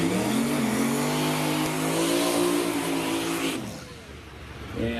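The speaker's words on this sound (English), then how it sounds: "As he burns a little rubber there out of that left-hand side." A 1989 Mustang drag car launches and burns rubber off the left side at a drag strip, engine roaring loud and sustained with rising pitch before fading, then another engine swelling near the end.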